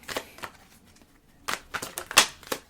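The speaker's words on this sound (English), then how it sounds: "I really aggressively shuffled this deck" A tarot card deck is shuffled hard by hand, a few quick papery riffling bursts separated by short pauses, close and fairly loud with no talking.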